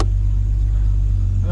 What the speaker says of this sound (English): started up and let it breathe for a few seconds.